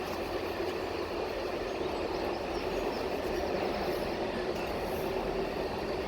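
A train rolls steadily along a nearby rail line, a continuous broadband rumble and rattle of wagons holding at an even loudness throughout, with no talk over it.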